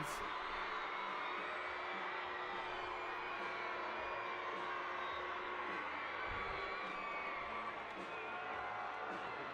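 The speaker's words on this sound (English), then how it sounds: "the crowd goes wild for the San Clemente Tritons" Crowd at a high school football game cheering for the San Clemente Tritons, a steady loud roar of whoops and yells from the stands, sustained throughout with a voice mixed in.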